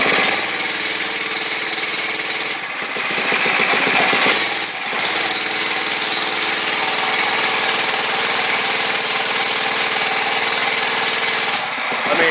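Motovox MBX10 mini bike engine held at full throttle, a loud, steady buzzing drone with a couple of brief dips, close up and continuous with no talking.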